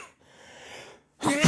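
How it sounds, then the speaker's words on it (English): A single loud, close sneeze bursts out in a quiet room after a brief breathy intake, with nothing else around it. "I really enjoy sneezing on the fucking podcast"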